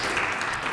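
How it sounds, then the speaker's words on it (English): Audience applause at a candidate forum, a short burst of dense clapping heard briefly and at full volume. "Please hold your applause until we complete the panel"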